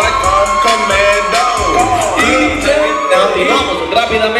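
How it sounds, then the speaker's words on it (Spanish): Loud crowd cheering, whooping and shouting fills the hall as a chambelán is presented at a family celebration, a dense continuous roar of voices with no pauses. "Adelante, un aplauso para Dede."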